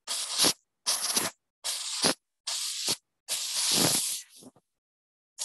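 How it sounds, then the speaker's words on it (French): A steam cleaner hisses in sharp, loud bursts as it lifts dirt from an old flea-market item, five close blasts separated by short silences, the last one longer, with no talking. "C'est vraiment la vapeur qui va faire l'action de décoller les salissures."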